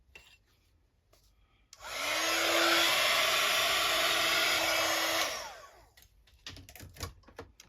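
A hair dryer blows on an art board for a few seconds, a steady loud whooshing roar that starts and cuts off abruptly, with quiet tapping and handling noises before and after.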